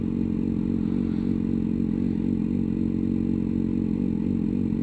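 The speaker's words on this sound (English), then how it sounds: "Is the bike running still? Yep." Motorcycle engine idling steadily through a U-turn on a road, a low continuous rumble with faint clatter, close and constant throughout.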